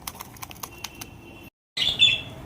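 Budgies in an aviary, quick soft wing flutters and light scratchy taps followed by a short silence, then a bright, close burst of chirping.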